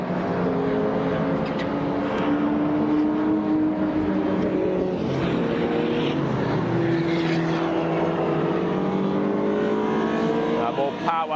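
Saloon race cars, super saloons and tin tops, lap the Brands Hatch circuit, their engines droning loudly and continuously with pitch rising and falling as they pass, a commentator speaking over the noise.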